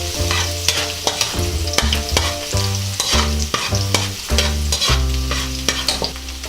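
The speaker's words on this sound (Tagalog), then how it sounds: "Ngayon po na mainit na ang ating mantika ay pwede na po nating gisahin itong bawang." Garlic sautéing in hot cooking oil in a pan, a loud steady sizzle broken by repeated rhythmic scrapes and clanks of a utensil stirring against the pan.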